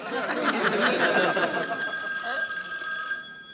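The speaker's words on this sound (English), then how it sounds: "Okay, I got to answer the phone." A telephone bell rings in a sitcom home scene, a bright trilling ring with a sustained tone that fades out, with light audience chuckling underneath.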